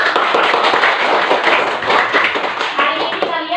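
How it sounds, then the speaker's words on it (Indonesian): A classroom of students bursts into applause, many hands clapping together in a dense, steady patter close by, with a voice speaking over the end. "Oke, tepuk tangan dulu."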